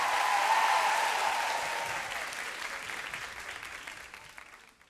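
Audience applause for a young singer from Campo Maior, Piauí, on a TV variety show, a dense steady clapping that starts loud and gradually fades away over several seconds.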